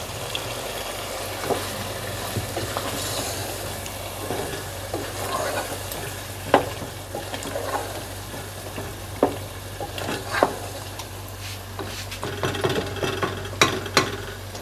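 Chicken frying in a spiced masala in a pan as yogurt goes in for a curry gravy; a steady, moderately loud sizzle runs throughout, broken by scattered metallic clinks and scrapes from a spoon.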